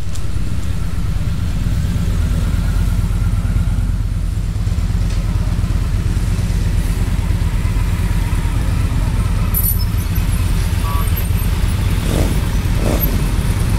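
A group of motorcycles, Indian, Victory, Harley, BMW and Yamaha, rumbles and drones in a continuous loud engine roar at a bikers' ride, with no pause throughout.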